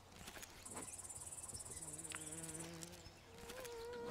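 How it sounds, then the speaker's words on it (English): Mosquitoes buzz in the Survival: Fountain of Youth video game, a steady high whine running close and continuous alongside insect chirping and soft ambient tones. "The sound of mosquitoes."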